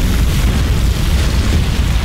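A loud, dense explosion rumble from the video game Overlord, a continuous booming roar with no speech over it.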